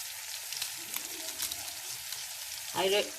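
Food goes into hot oil in a home kitchen, giving a quiet, steady sizzle that swells into a louder crackling burst just before the end.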